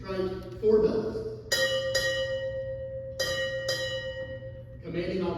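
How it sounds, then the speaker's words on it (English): During a US Navy change of command ceremony, a ship's bell is struck four times in two quick pairs, each clear metallic ring lingering, with a spoken announcement just before and after the strikes. "Time order. Strike 4 bells."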